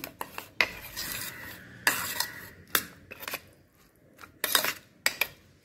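Paneer and cheese stuffing being mixed with sauce and ketchup in a bowl, a spoon scraping and clinking against the dish in irregular bursts, close and fairly loud, with quieter stirring between strikes.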